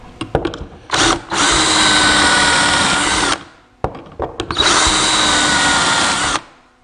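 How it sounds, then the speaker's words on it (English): Cordless power drill driving pocket screws into a wooden table frame, two loud close bursts of whirring a couple of seconds each, separated by brief clicks and handling sounds, with no talking. "attaching the frame to the tabletop, and my advice is when you attach these pocket screws"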